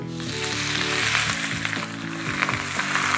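Loud, steady sizzling of wide rice noodles frying in a hot wok, with rhythmic metallic scraping and clanks repeating throughout.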